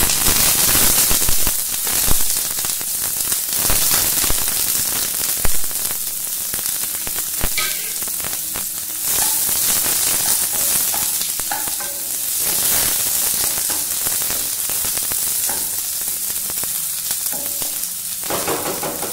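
Chopped onion frying in hot oil in a home kitchen for a fish curry, a loud continuous sizzle and crackle with occasional stirring scrapes throughout, no voices.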